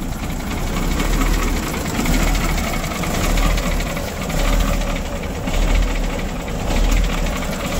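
A Ford F8000 truck that has been sitting for a few years idles after starting, a loud, close diesel rumble with a rhythmic low throb that pulses evenly and rises and falls slightly.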